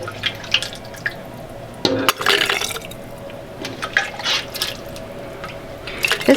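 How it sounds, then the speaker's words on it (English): Juice poured into quart canning jars of beef heart stew, with a close, trickling, splashing flow, intermittent drips and a few louder bursts of liquid over several seconds. "I'm probably gonna have to fill a couple jars and then pour the juice"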